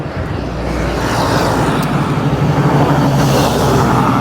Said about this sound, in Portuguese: Como esse carro está passando aqui, ó